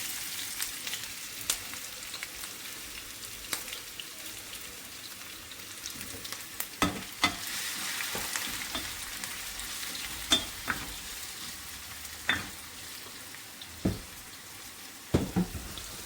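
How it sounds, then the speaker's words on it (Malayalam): Green chillies and tomato sautéing in a pan, a steady soft sizzle with scattered sharp clicks and taps of a spoon stirring against the pan, fairly quiet and with no talk. "പച്ചമുളക് ഇത്ര ചേർത്ത് വഴറ്റാൻ പോകണം."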